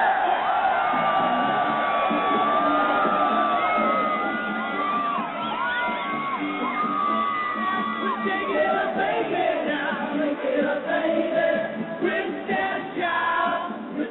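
A large crowd cheers, whoops and applauds for a band of fifteen-year-olds, with loud, continuous shouting that swells and dips throughout.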